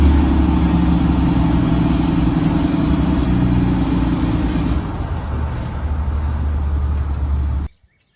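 A car engine hums steadily while driving, loud and close with a constant low drone, before cutting off abruptly near the end.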